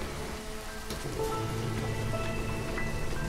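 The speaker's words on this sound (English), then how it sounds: "Oh, there's a storm geyser, nice." In the video game Against the Storm, a storm geyser gives a steady rain-like hiss and patter, a constant wash of falling water with faint tonal game sounds over it.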